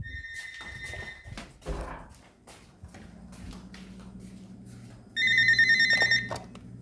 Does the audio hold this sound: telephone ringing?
yes